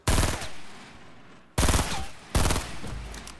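Gunfire in the Fortnite video game sounds as three loud, close bursts of rapid automatic shots, each cutting in abruptly and trailing off, with no talk over them.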